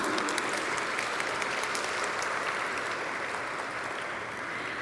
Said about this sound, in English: Let's have a huge round of applause for Shri Ashish Kumar Chauhan.